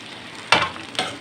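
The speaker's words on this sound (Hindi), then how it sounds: "जो हमारा टिंडा है अब वो इसमें हम फ्राई करने वाले हैं।" Tinda pieces sizzle in hot ghee in a kadai. A low hiss is broken by two sharp bursts of frying, each followed by a brief crackle, close and loud, with no talking.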